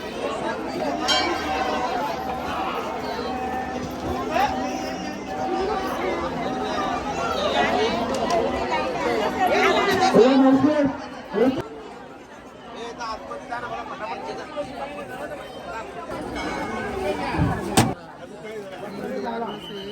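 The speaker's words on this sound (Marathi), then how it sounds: "मी मंदिराचा परिसर असा आहे गर्दी भरपूर आहे" Dense crowd chatter fills a temple courtyard at the large Mhasa village fair in Murbad, Thane district, with many overlapping voices, occasional clinks and footsteps, dipping briefly midway before the babble swells again, with one sharp knock near the end.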